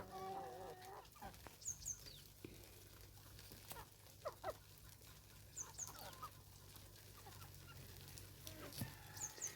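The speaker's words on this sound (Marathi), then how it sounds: "पाऊस संपल्याबरोबर कशा कोंबड्या आल्या बघा बाहेर पटापट" Chickens cluck intermittently at a distance, short scattered calls over a faint steady background hum.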